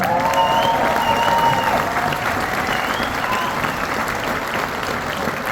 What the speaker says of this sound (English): So a round of applause again for yourself.